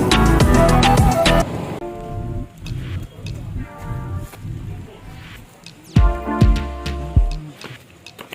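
Rain falls steadily as a broadband hiss through a changeable-weather outing in Assam, partly masked by loud music and voices near the start and end.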